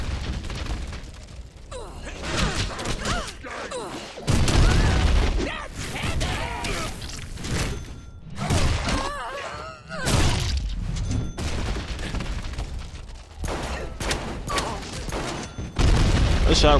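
Loud bursts of gunfire and booming impacts from the Deadpool video game, with chaotic blasts clustered through the action and brief voice sounds among them.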